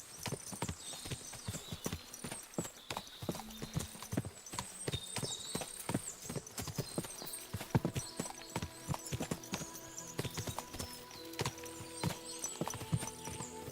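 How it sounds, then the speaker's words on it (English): Many horses' hooves clip-clopping in the video game Kingdom Come: Deliverance II, a busy irregular patter of hoof strikes with occasional whinnies, fairly close and continuing throughout. "Can you see what I see? Fuck! What a lot of horses!"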